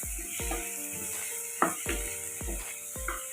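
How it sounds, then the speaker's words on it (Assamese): Fried paneer pieces drop into a pan of sizzling tomato gravy for matar paneer, giving a repeated rhythm of soft thuds and stirring scrapes over a constant close sizzle. "এয়া ফ্ৰাই কৰি থোৱা পনীৰবিলাক দি দিছোঁ আমি"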